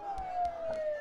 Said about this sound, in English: Don't those sirens sound really close?